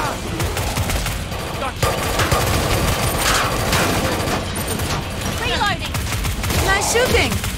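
Dense Killing Floor 2 gunfire rattles without pause from a close firing position, rapid bursts layered over one another, with voices calling out over the shooting throughout.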